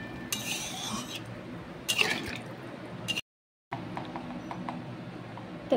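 A spoon stirs a fish curry in a pan with water as fresh pond-caught catla pieces go in, bringing intermittent metallic clatter and wet squishing, a brief silent gap, then a softer continued stirring.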